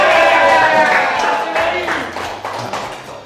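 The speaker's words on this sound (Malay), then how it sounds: "Sila bagikan tepukan untuk pengawal peribadi saya ni." An audience claps for a host's personal bodyguards at a casual event; a voice opens the moment, then scattered, moderately loud claps taper off gradually.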